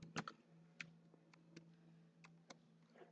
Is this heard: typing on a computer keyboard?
yes